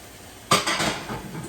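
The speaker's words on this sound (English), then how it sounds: "While we wait, we might as well wash some dishes." Dishes being washed in a home kitchen sink: a sudden clatter of pots and utensils followed by brief scraping and rinsing sounds, close and short, with no talking.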